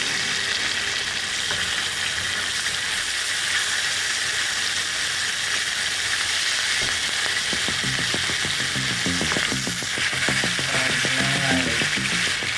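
Pork ribs sizzle steadily in a hot, buttered pan for a spicy curry, a loud continuous frying hiss with occasional stirring and bubbling sounds, close up and without talking.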